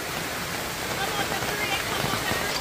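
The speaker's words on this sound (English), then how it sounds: "Guys, the rain feels good." Rain falls steadily in the mountains of Jamaica, a soft, even hiss of drops spread across the whole moment, with faint murmurs of people underneath.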